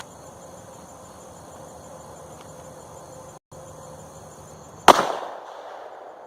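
A Taurus Judge Public Defender Poly revolver fires a single PDX-1 round, one sharp loud report with a quick decaying echo after several seconds of quiet outdoor background with insect hum.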